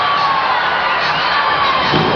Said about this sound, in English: That gets the crowd into it for a moment here.